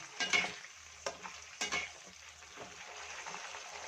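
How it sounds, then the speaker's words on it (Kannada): Raw banana slices fry in oil over a low flame for crispy chips, giving a soft sizzle with a few sharp stirring clatters against the pan, quiet and without voices. "ಚೆನ್ನಾಗಿ ಲೋ ಫ್ಲೇಮಲ್ಲೇ ಫ್ರೈ ಮಾಡ್ಕೋಬೇಕು ಕ್ರಿಸ್ಪಿಯಾಗಿ ಬರಬೇಕಿಲ್ಲಿ"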